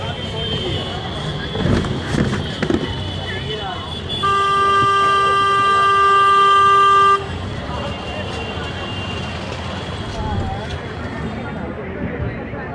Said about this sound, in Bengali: সঠিক সময়ে আমাদের ট্রেন ছাড়লো।